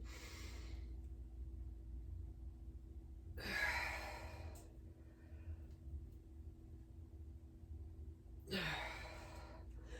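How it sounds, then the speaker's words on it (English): Heavy breaths during a weightlifting workout, two loud, breathy exhales about five seconds apart over a steady low hum, close to the mic with no talking. "Sorry about my breathing."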